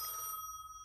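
A telephone rings in the game Gas Station Simulator, a steady electronic ring tone heard alone and fairly faint, lasting under a second.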